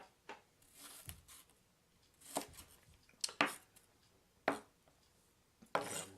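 An onion is chopped with a knife on a board, a handful of sharp, separate cuts spaced irregularly, close and fairly quiet, with soft shuffling between strokes and no talk.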